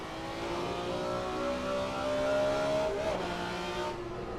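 Classic race cars including a Ferrari 365 GTB racing in the Assetto Corsa video game, engines droning in a steady sustained roar with a pitch that shifts briefly near three seconds.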